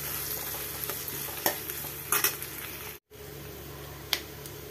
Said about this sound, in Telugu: ఒకసారి మెంతులు అయితే వేసుకొని పచ్చిమిర్చి అలాగే ఉల్లిపాయలు వేసి ఒకసారి అయితే కలిపేసుకుందాం